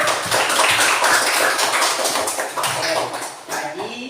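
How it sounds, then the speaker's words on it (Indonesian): Students in a primary school classroom clap for a classmate during a practice lesson, a close, dense burst of rapid applause that tapers off after a few seconds. "tepuk tangan untuk temannya"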